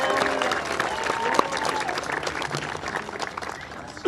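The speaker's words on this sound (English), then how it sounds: "Everybody give her a round of applause." Audience applause at a municipal band concert, dense steady clapping from a crowd throughout, fairly close and loud, with a few sharper claps standing out.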